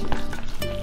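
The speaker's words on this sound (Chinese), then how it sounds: "给它搅拌均匀。" A short burst of close stirring as a meat filling seasoned with soy sauce, oyster sauce, salt, starch, pepper and oil is mixed in a bowl, with soft wet scraping.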